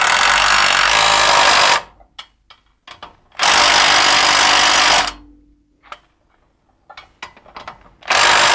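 Impact-style power tool tightening caliper bracket bolts on a Ford Crown Victoria during a brake job, loud sustained bursts of about two seconds each, three runs in all, separated by quieter clanks and handling noises.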